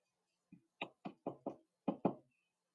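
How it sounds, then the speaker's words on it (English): Knocking at a door: six distinct knuckle raps, fairly close, an uneven rhythm with a short pause before the last two, heard alone in quiet. "heard a knock at the door."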